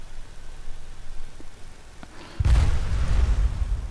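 A fire spell from a fire Atronach in Skyrim hits with a sudden roaring burst after a few faint ticks, and the loud rushing blaze carries on to the end.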